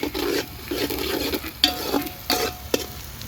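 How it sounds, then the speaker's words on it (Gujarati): Green peas and spring onion roasting in a pan for Gujarati masala rice: bursts of close stirring and scraping with a soft sizzle underneath, coming in several short passes with brief pauses and a couple of sharp clinks. "હવે આપણે નાખીશું લીલા વટાણા તેને પણ સારી રીતે શેકી લઈશું"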